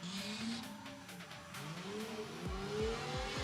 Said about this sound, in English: Sound like a lot of throttle modulation there to keep the car set